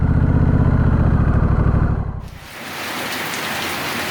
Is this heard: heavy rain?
yes